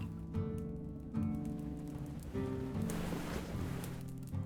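Rain falls steadily in the village survival game Clanfolk, a soft continuous patter over low game music, with no talk.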